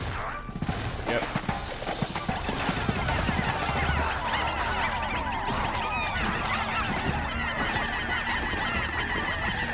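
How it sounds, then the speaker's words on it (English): Naughty bird creatures in the Pikmin 4 video game squawk and cluck in rapid bursts over game effects and clattering, a busy chattering cluster of calls that persists throughout at moderate level. "There's these like naughty birds"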